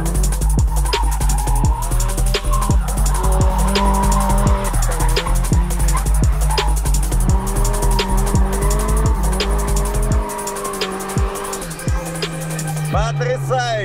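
A near-stock Nissan Silvia with about one bar of boost drifts at a Mongolian drift event, its engine roaring loudly and steadily while the tires squeal and skid almost continuously, the note dipping briefly near the end.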